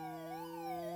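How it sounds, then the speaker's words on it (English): Wailing police car siren from a ZX Spectrum video game played through an AY-3-8910 sound interface, a steady electronic tone sweeping slowly up and down over a constant buzzing drone, loud and continuous with no talk. "bump into the police car."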